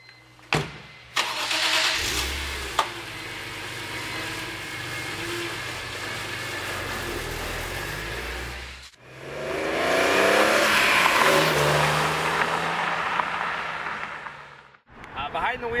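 A BMW Z4 M Roadster engine starts and revs, then settles and pulls hard through an acceleration run, its loud mid-pitched growl rising and falling close by, with a person talking at points.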